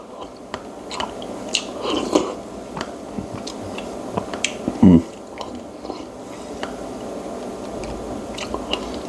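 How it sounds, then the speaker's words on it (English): Someone close by eating oatmeal with soft wet mouth sounds, small slurps and chewing clicks, with one louder slurp midway, all fairly quiet. "Love slurping oatmeal."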